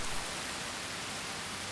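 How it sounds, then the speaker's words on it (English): Heavy rain falling on a wetland in June, a dense, even, hissing wash of rain that stays steady and fairly close for the whole short stretch, with no voices. "Heavy rain brings the temperature down."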